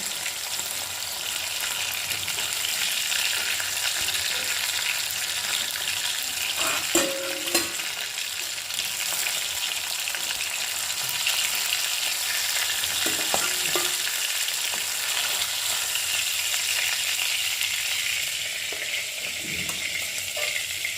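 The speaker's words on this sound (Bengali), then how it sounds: "এবার আমি এটাকে ভেজে দেব" Hilsa fish fries in a pan with a dense, continuous hiss of hot oil, broken by a few clinks and scrapes from a utensil; close and steady, with nobody speaking.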